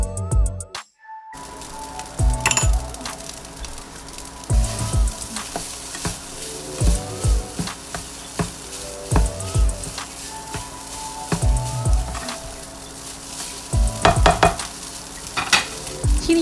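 Pineapple fried rice stir-fried in a pan with soy sauce and sugar sizzles steadily, with repeated scraping strokes of a spatula and clanks against the pan at an irregular rhythm, close and fairly loud, with no talking.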